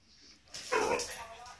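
A dog gives a single short bark, close and fairly loud, after a quiet moment.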